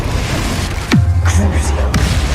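A Confringo spell blast cast in the Hogwarts Legacy video game: a sharp, falling whoosh followed by a sustained low rumbling burst, with a second brief crack near the end.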